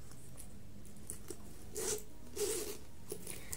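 A zipper on a black Palomino Rue handbag is pulled in two quick, close, soft rasps separated by a short pause, against a quiet background.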